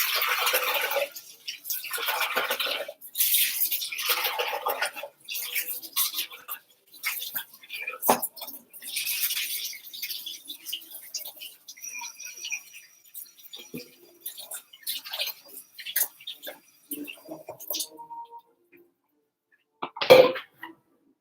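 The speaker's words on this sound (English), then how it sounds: "I'm gonna rinse this up real quick" A cooking item is rinsed under a running kitchen tap while preparing Mexican food. Water gushes in uneven bursts for about ten seconds, followed by quieter handling noises and a sharp knock near the end.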